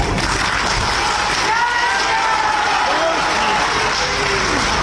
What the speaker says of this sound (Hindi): ये आपकी तालियां।